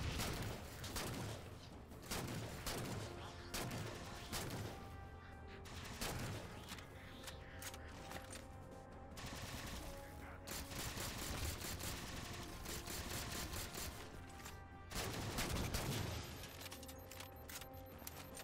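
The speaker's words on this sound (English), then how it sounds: "Oh, I do have a plasma pistol." Gunfire in Halo: The Master Chief Collection multiplayer, including a plasma pistol, as repeated bursts of shots and impacts in a busy, fairly quiet game mix.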